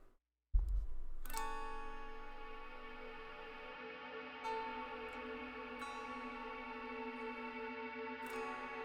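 A reverb effect sounds alone with the dry signal removed: after a brief silence, a washed-out, sustained chord blooms and hangs in a long shimmering tail, with fresh swells rising twice more.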